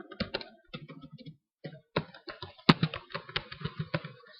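Fast typing on a computer keyboard, bursts of crisp clicking keystrokes with short pauses and one sharper key strike, close up and without talking.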